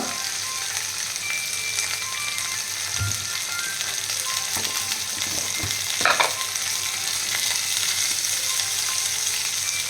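Food frying in a pan sizzles with a dense, steady crackle, close by, broken by a few soft knocks and stirring scrapes, with no voices.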